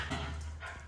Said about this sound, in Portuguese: Aqui do lado tem 2 cachorrinhas brigando.